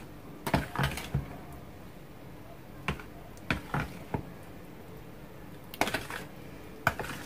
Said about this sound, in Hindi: तो इसको मिक्स कर लेंगे क्योंकि बहुत ही ज़्यादा थिक है दही।